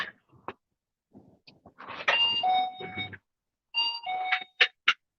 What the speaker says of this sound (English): I hate the 7-Eleven ding dong.